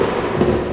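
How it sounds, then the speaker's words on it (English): Thunder rumbles low and dense in an ASMR recording with rain, a brief loud wash of rolling storm noise with no voice. "If you enjoyed the rain sounds or the ambient synth sounds."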